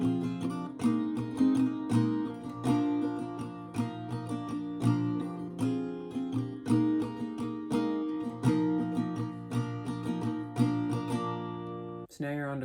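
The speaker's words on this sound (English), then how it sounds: "And pre-chorus 1 in its entirety would sound like this." Acoustic guitar strumming through the first pre-chorus of a song (live version), a steady rhythmic pattern of ringing chords, close and alone, ending with a brief pause and a fresh stroke.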